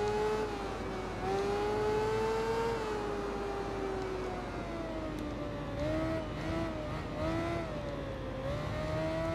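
A Suzuki motorbike engine in the Tourist Trophy racing game drones loudly and continuously, its pitch rising and falling smoothly with throttle changes and no speech over it.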